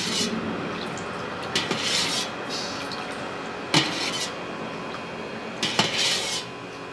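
A cooking pot clanks and scrapes at a kitchen sink while dishes are washed up, with several sharp metallic knocks standing out over a steady rubbing, rinsing background, close by and with no talking.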